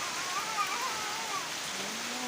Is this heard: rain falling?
yes